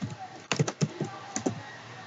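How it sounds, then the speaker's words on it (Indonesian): Keys on a computer keyboard tapped out in a quick irregular burst of about six close, crisp clicks, with short pauses between, heard alone without talk. "kemudian ketik nama project-nya"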